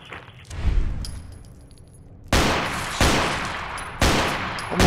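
Rifle shots ring out in Fallout 4, one early blast followed by three sharp, loud reports about a second apart, each leaving a ringing tail.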